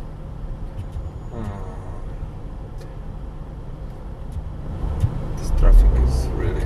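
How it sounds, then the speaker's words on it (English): A car's engine and road rumble hum steadily through slow-moving traffic, with low broadband noise throughout and a louder surge near the end, while people talk inside. "This traffic is really, really slow."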